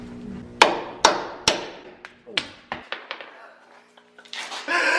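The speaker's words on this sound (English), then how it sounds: "you're gonna hammer the 24 on there" A hammer strikes a 24mm socket onto a lower ball joint on a Toyota 4Runner, about a dozen sharp metallic blows at an uneven pace, close and loud, with faint voices near the end.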